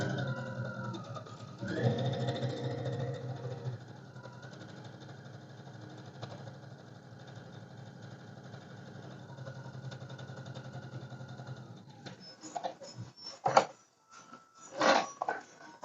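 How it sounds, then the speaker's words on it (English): A sewing machine runs in a steady, continuous whir for several seconds, louder at first and then settling, followed by a few short clunks and handling noises near the end with no talking. "yes, I am sewing"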